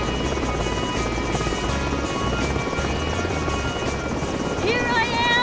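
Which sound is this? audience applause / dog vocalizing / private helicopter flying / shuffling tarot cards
private helicopter flying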